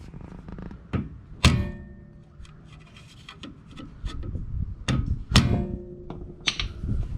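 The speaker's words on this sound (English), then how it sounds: "I'm going to be using my pry bar, positioning it and just pounding it and straightening it out." A pry bar pounds lock washers straight on the tie rods of a 2002 Toyota Highlander, giving several sharp, close metallic strikes at uneven intervals with softer scraping and shuffling between them.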